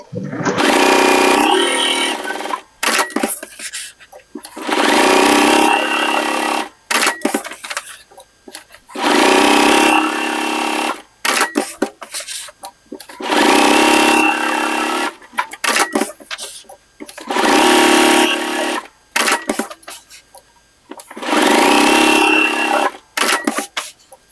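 Home sewing machine running a straight stitch, loud motor whirring in about five steady bursts separated by short pauses, with no talking.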